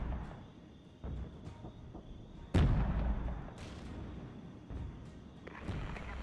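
Distant battlefield gunfire and artillery in the war strategy game Regiments: muffled booms and scattered shots, with one heavier blast standing out among rolling rumbles, fairly faint overall and with no voices.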